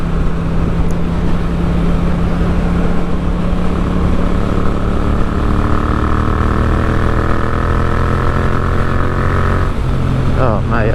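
A 2023 Yamaha MT07 motorcycle engine drones steadily while riding, with a rising rev tone through the gears, loud and constant, with wind noise underneath.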